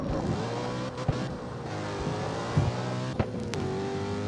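A BMW races in the CarX Street driving game, its engine droning steadily with a sustained, evenly pitched tone, joined by a few brief knocks and a short rising whine near the end.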